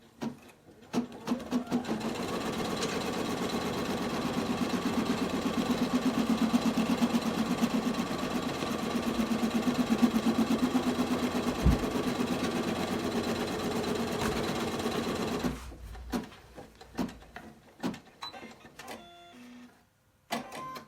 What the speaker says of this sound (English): we're going to press the green button, and it's going to stitch the chunk of hair that's pink